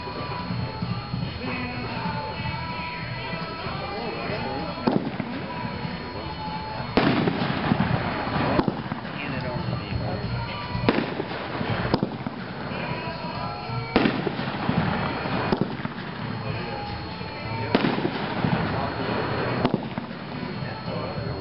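A Winda Addicted to Loud 9-shot fireworks cake fires a run of loud, sharp bangs at irregular intervals, each a broadband crack with crackle between.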